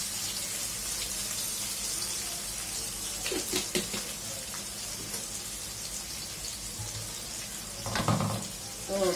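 Onions fry in very hot oil in a home kitchen, giving a continuous soft sizzle and crackle at low level. A few stirring clatters break through, with a louder scrape near the end.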